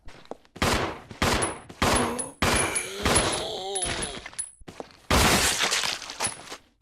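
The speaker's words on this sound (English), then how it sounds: "I scored a critical headshot in there. And the regular zombie took 4 shots." Gunfire in Resident Evil Zero striking a regular zombie, several loud sharp shots in irregular succession with shattering, impact crunches and short game sound effects between them, alongside a voice talking.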